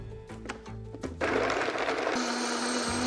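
Brief soft clicks and knocks, then a blender motor starts and whirs loudly and steadily, puréeing an oil-free vegan salad dressing with soy sauce, pepper and green onion.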